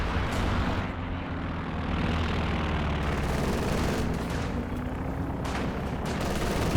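Machine guns fire in the strategy game Company of Heroes 2 as a dense, continuous rattle of gunfire. It plays loudly over a rumbling battlefield backdrop, with no pauses through the whole stretch.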